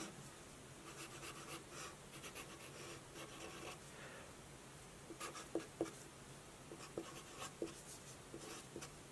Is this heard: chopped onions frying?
no